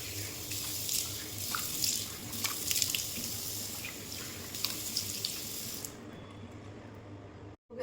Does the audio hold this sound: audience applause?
no